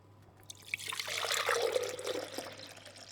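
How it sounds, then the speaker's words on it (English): Milk is poured from a jug into cups. A soft, trickling liquid pour builds quickly, holds for a couple of seconds, then tapers off, quiet and close. "The mom poured 3 cups of milk from a nearby milk jug. Then she poured 2 more."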